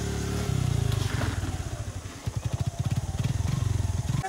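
A motorcycle fitted with ABS brakes runs nearby, its engine idling with a steady rumble before a few quick throttle blips produce a pulsing, uneven putter.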